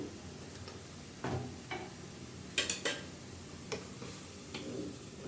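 Capsicum, mixed vegetables and egg noodles are stirred in a pan, with a few soft scrapes and clicks from the utensil over a faint, steady sizzle.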